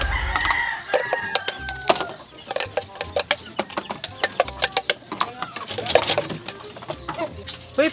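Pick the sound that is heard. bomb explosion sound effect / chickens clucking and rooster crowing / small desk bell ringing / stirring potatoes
chickens clucking and rooster crowing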